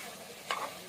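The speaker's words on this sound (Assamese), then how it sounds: "আৰু ইয়াত এতিয়া মই পানী দি দিছোঁ, অকণমান মাংসটো সিজিবলৈ দিছোঁ।" Meat sizzles in a pan for a curry, and a short splashing burst rises briefly from the steady frying as water is poured in.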